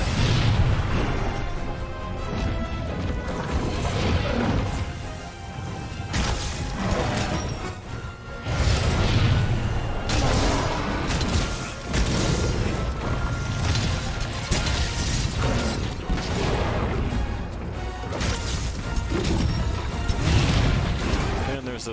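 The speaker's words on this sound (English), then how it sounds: "Those explosions." Explosions in the video game Monster Hunter: World erupt as a series of loud, heavy booms and crashes at an uneven rhythm, close and dense over a constant bed of combat noise.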